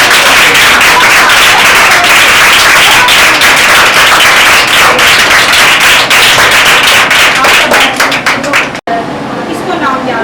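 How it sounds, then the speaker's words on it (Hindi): A church congregation at a children's sermon breaks into loud, sustained applause, with dense clapping that turns sharper and more rhythmic toward the end before a brief break. "जोरदार तालियां चाहिए"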